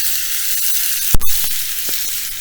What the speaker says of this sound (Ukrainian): Цибуля трохи обжарилася. Тепер даємо перець болгарський і помідор.